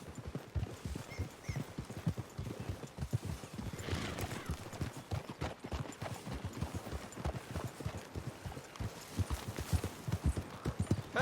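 Horses walk through woodland in the Red Dead Online video game, their hooves making a steady, continuous clip-clop at close range with an occasional whinny, while faint voices talk in the background.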